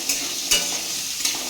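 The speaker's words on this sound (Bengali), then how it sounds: "এবার মাংসের আলুটা ভেজে নিচ্ছি" Potato pieces for a meat curry fry in oil in a pan, a steady close sizzle with a few soft stirring scrapes at intervals.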